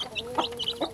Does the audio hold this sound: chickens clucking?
yes